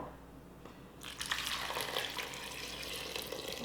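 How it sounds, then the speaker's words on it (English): Water pours into a cooking pot to cover chopped vegetables for a whole-food plant-based meal. A steady, close splashing rush begins about a second in and continues over a quiet kitchen background, with no talking. "I'm gonna just add some water to make sure that everything's covered."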